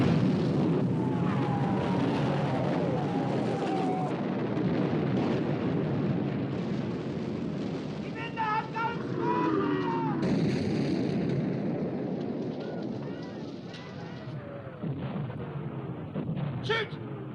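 Naval battleship guns fire in a 1960 war film, heavy booming blasts rolling under a continuous dense battle din, with shouted voices and whistling shells mixed in.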